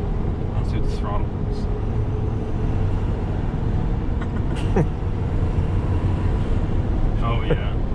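A 6.7 Powerstroke diesel truck fitted with a Banks Pedal Monster accelerates at full throttle and builds boost quickly, a steady, heavy engine rumble heard from inside the cab while people talk over it.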